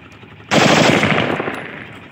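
A 30 bore pistol fires a loud, sustained burst during test firing, the rapid shots blurring into one dense roar that decays over about a second and a half, with no talk.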